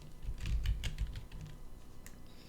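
Quick typing on a computer keyboard, entering product sizes into a WooCommerce page: a close, steady run of key clicks lasting a couple of seconds, with no voice.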